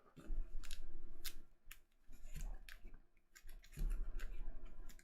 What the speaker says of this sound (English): Let's go ahead and shuffle that up now.